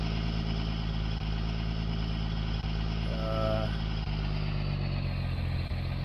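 Steady, constant drone of the Cummins diesel engine in a Ram truck in Farming Simulator 19, heard from inside the cab, a low even rumble with a brief tonal whine partway through and no talking.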